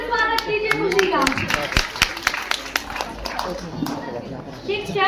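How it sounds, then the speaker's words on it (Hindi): An audience at a school farewell party claps enthusiastically to welcome a performer, producing loud, dense, continuous hand-clapping with sharp individual claps standing out and voices murmuring underneath. "तो जोरदार तालियों से स्वागत कीजिए"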